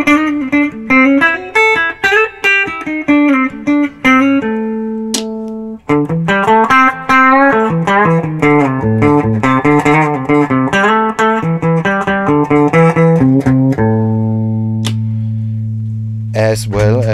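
Clean electric guitar, a Höfner Verythin, playing melodic chords and single-note runs, bright and clear, with sustained ringing notes near the end.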